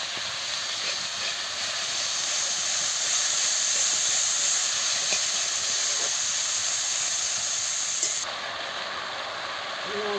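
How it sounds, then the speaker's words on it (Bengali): Ground spices sauté with fried onion in a pan while cooking silver carp curry, giving a steady loud hiss and sizzle that holds for several seconds with faint scraping ticks, easing slightly near the end. "সব মশলাগুলো আমি একসঙ্গে দিয়ে দিচ্ছি, দিয়ে ভালো করে কষিয়ে নিচ্ছি"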